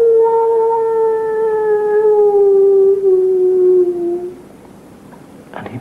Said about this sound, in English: And in the distance, the howl of the werewolf.